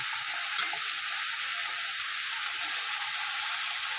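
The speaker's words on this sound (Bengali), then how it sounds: "এই মশলাটা দিয়ে দিলাম এবার একটু নাড়াচাড়া দিয়ে মিশিয়ে দিই ভালো করে" Spice paste fries and is stirred in a pan for an egg and taro-stolon curry, a constant bright sizzle close by with a faint scrape of stirring and no speech.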